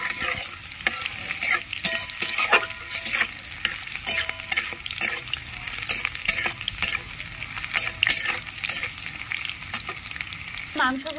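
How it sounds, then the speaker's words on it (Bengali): Chopped onions frying in hot oil with a dried red chili and whole cumin seeds, sizzling steadily while being stirred, with scraping stirs at irregular intervals, close and fairly loud with no talking. "সামান্য পেঁয়াজ ভেজে নিচ্ছি"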